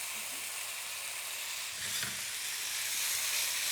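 San choi bao mince sizzles steadily in a hot pan as it is stirred through, a continuous close hiss with a soft scrape of the utensil midway, no voices.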